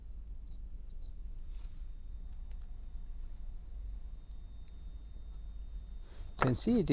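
A steady high-pitched electronic buzzer tone, powered by a 3-volt battery, sounds continuously after a brief start, with a short burst of voice at the very end.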